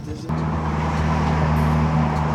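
Subaru WRX with a Remark 4-inch double-wall axle-back exhaust drives with the windows down, giving a steady, loud, deep drone with a strong low hum throughout and no voices.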